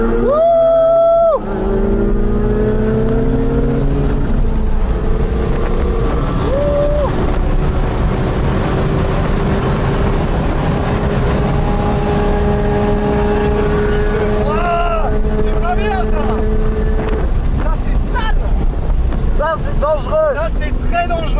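A Porsche sports car engine hums and revs up through the gears while driving, heard from inside the car, loud and continuous with some wind noise.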